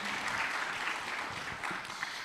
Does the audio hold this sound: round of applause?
yes